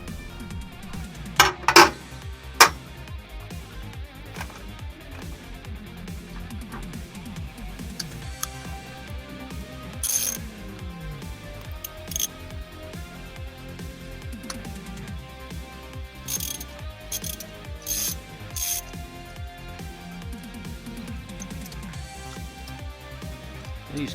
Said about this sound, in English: Get these plugs out.